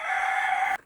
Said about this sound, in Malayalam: കോഴിയൊക്കെ കൂവുന്നുണ്ട്.